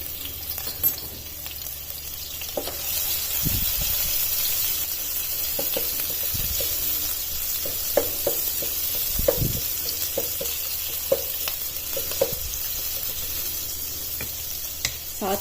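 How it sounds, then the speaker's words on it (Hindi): Garlic ginger paste and chopped green chillies fry in hot oil for a Chicken Jalfrezi, giving a steady close sizzle with occasional stirring clicks and scrapes throughout. "अब इन तीनों चीजों को सिर्फ 1 मिनट तक ही इसमें फ्राई होने देना है।"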